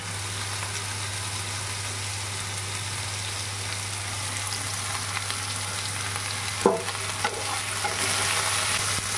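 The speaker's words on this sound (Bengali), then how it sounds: "আস্তে আস্তে আলুটা ভাজা হোক।" Potatoes frying in a pan and being stirred, a steady close sizzle with a low constant hum beneath and a sharp utensil scrape near the end.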